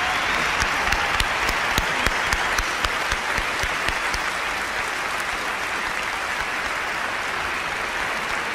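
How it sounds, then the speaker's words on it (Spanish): A large audience claps continuously, a dense, even wash of applause with a few sharper individual claps standing out early on. "toda esta gente parada con las manos te dan el aplauso que mereces"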